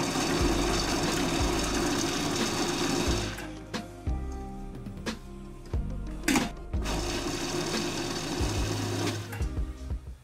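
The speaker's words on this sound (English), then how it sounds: "Prepare the carrots in the mixer like this." A kitchen mixer runs in two loud, steady motor bursts while chopping peeled carrots for vegetable soup, separated by a short pause of clatter and knocks.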